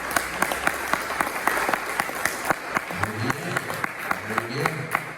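Congregation in a church clapping in applause of joy, a steady patter of many hands with a louder voice breaking in toward the end.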